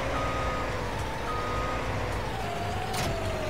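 Steady, evenly spaced reversing beeps from a tractor in the Farming Simulator 19 video game ring out over a constant engine drone, loud and close throughout.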